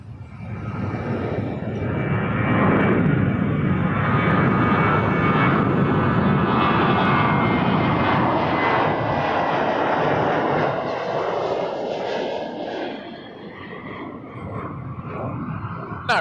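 An airliner landing on runway 24 left at Toronto Pearson Airport, a loud, broad jet engine roar building and holding close by, then fading slightly toward the end.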